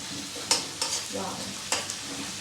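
A spatula scrapes and stirs fish curry with potatoes in a sizzling pan, with a few sharp clinks against the metal over a steady frying hiss, close by.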